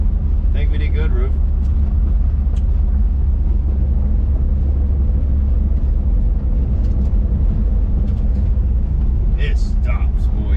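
A 1966 Ford Thunderbird driving along, giving a steady, loud low rumble of engine and road noise throughout, with brief bits of speech over it near the start and end.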